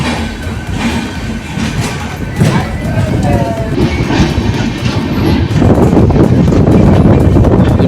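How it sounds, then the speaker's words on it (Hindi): A passenger train pulls out of Shahpur Patori railway station on the Saharsa–Patliputra Janhit Express, rumbling steadily with wheel clatter and wind noise that build louder toward the end. "2 मिनट होल्ड के बाद अपनी ट्रेन का डिपार्चर हो चुका है शाहपुर पटोरी रेलवे स्टेशन से।"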